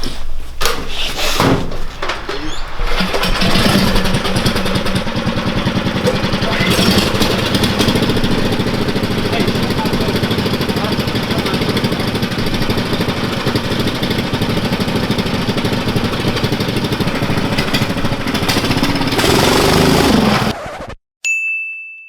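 Twin 18 hp engines on a homemade buggy rattle to life and run loud and steady for about twenty seconds, a harsh, busy drone that cuts off abruptly near the end.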